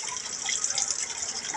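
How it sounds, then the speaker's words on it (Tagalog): Water is being changed in a fish hatchery tank holding milkfish and tilapia, a faint, continuous splashing and trickling of running water without any voices. "Maglaging magilis ng tubig sa rasyak."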